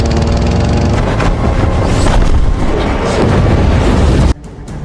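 A loud, sustained roaring blast with dense low rumble, cutting off abruptly near the end into a quieter rumble.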